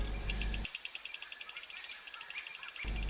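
Insects chirp in fast, even pulses, faint but continuous and fairly close, while a low rumble drops out briefly and then returns.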